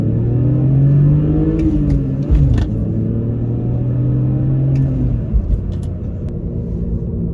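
A 2005 BMW 325xi with a 2.5-liter six-cylinder and 180,000 miles accelerates hard. Its engine note is loud and close and climbs through the gears, with a brief dip at each shift, heard alone without talk.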